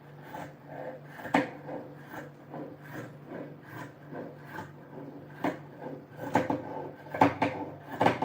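Scissors cutting through old cotton T-shirt fabric, with soft rubbing and snipping sounds close by, a few sharper cuts and fabric handling clicks standing out, no talking.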